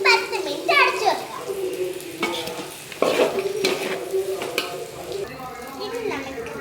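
A spoon scrapes and stirs chicken pieces in a cooking pot with light sizzling, clattering in uneven strokes close by while children talk over it.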